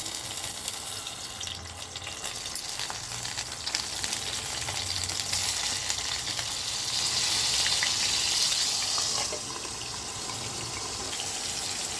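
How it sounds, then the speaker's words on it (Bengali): Pointed gourd (potol) pieces frying in lightly salted hot oil, a steady close sizzle that holds for about twelve seconds and swells slightly near the end, with no voices. "এবার পটলগুলো আমি তেলের মধ্যে দিয়ে দেবো।"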